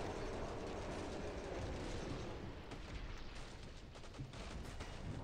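Dense, continuous gunfire and explosions from the video game Killing Floor 2, a wave-based zombie shooter, played with custom weapons; a loud, busy wall of shots and blasts with no pauses.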